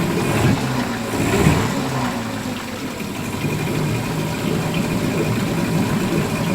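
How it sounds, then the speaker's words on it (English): A Mercury outboard motor runs with a steady, dense rumble that swells slightly as it revs, loud and close throughout with no talk over it. "Now I can rev the engine."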